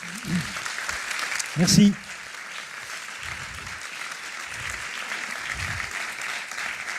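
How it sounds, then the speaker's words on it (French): Audience applause for the speaker Philippe at a conference in Lille runs as a soft, steady wash of clapping, with a brief spoken thanks near the start. "Je pense qu'on peut l'applaudir."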